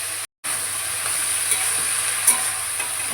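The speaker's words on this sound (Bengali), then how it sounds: "সবজিগুলো হালকা ভাজা ভাজা হয়ে গেছে" Mixed winter vegetables frying in a pan give a constant close hiss and sizzle, briefly cut out near the start, with faint stirring ticks and no talking.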